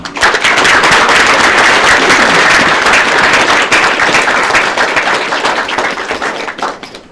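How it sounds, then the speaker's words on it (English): A round of applause at a city commission meeting, loud dense clapping from a crowd that holds steady for several seconds and then thins out toward the end. "So let's give them another round of applause."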